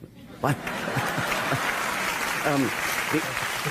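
Audience at a public talk applauding, a moderate, sustained patter of clapping heard from within the hall, with a voice talking over it at points.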